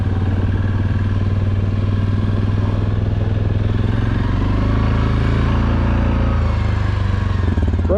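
A steady, loud ATV engine drones continuously while riding from Ma Deeters toward the Meadows ORV Campground trail, with some rattling clatter and no talk.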